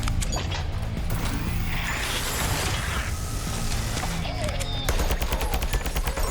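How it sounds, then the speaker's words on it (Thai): Rapid turret gunfire from automated defenses in the tower-defense game Sentry, a dense continuous rattle of shots with mechanical clatter, loud and steady throughout. "ป้อมปืนมันยิงเราได้ไหมไหนลองดูสิ"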